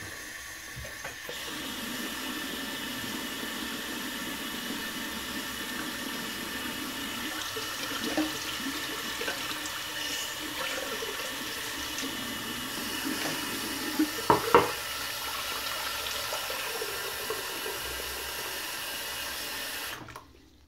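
Tap water runs in a steady, close hiss for about twenty seconds while filling a shaving bowl, with a few faint clinks partway through before it cuts off.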